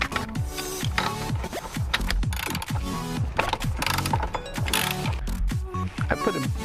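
A ratchet wrench cranking the middle steering wheel bolt, a 19, on a Nissan 350Z, with rapid continuous clicking strokes in a steady rhythm, loud and close throughout with no talking.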